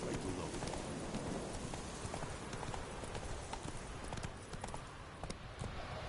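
Hoofbeats of a horse galloping in the video game The Witcher 3: a quick, steady clip-clop rhythm under a soft wash of ambience, fairly faint throughout, with a voice faintly in the background.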